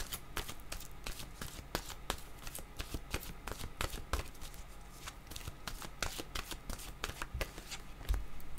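Tarot cards are shuffled by hand in a quiet room, a steady close run of rapid riffling flicks and slaps that carries on unbroken, soft and with no talk over it.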